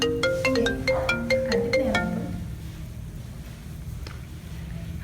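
A mobile phone ringtone at a Balinese dialogue competition plays a bright, repeating electronic melody for about two seconds, then fades into a low room hum.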